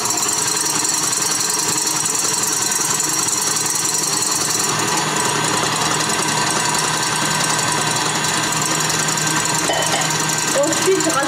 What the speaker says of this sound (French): je vais continuer de mélanger tout en versant le sirop